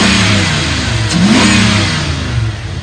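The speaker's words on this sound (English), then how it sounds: "I'm gonna rev it up so you can hear the motor." A 2002 Dodge Ram 3500 utility bed truck with 122,000 miles revs its engine close by, a loud steady idle rising in pitch to a brief rev around the middle and then settling back down.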